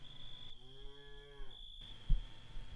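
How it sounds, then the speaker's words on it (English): Cattle lowing in a closed barn at night: one long, drawn-out moo rising and settling over a steady background hum, followed by a brief thump, fairly close and alone. "he can still hear the occasional mooing"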